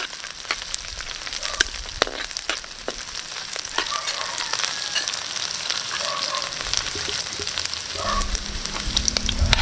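Garlic, ginger and onion frying in a pan for crab caldereta, with the garlic scorching: a continuous soft sizzle with occasional spoon scrapes and small crackles, moderately close, no talking.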